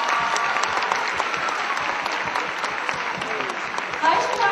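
Audience applause at an awards or tribute ceremony, a steady dense wash of clapping from a crowd lasting throughout, swelling slightly louder near the end.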